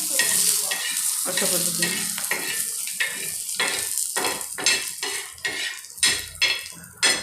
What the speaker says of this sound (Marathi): ते थोडं त्याला तळायचे किंवा भाजून घ्यायचे थोडेसे